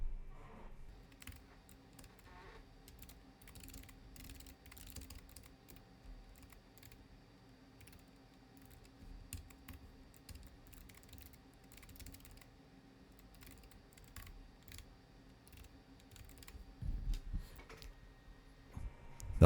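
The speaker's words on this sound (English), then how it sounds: "I'm just going to type the rest of my arguments in real quick." Steady typing on a computer keyboard, quiet and close, with irregular bursts of key clicks continuing throughout and no talk.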